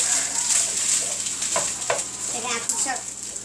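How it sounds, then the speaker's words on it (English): A spice mixture for chicken tikka masala sizzles steadily in a pan while being stirred, with a few soft scraping strokes over a close, continuous hiss. "They're gonna stir it. Now we're gonna give this a second. Let that spice mixture Warm up."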